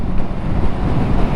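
A 2022 Honda CB500F motorcycle cruises at 70 mph in fifth or sixth gear around 5,200 rpm, a loud, steady low engine drone mixed with heavy wind and road rumble, with no speech.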